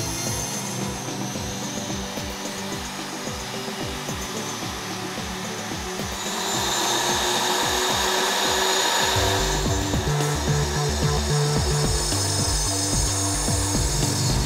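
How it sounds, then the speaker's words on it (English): A twist drill bit plunges into acrylic, a steady grinding whir with a rattling mechanical pulse that grows louder and brighter partway through, heard up close with no talk. "For the end of the stem, I plunge the drill bit deep into the acrylic and pull it back out."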